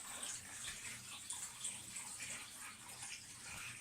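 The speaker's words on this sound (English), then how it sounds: "See, you can see it fizzing." Bath bomb fizzing in a tub of water, a steady soft hiss and gentle watery bubbling that runs continuously at low level without any talking.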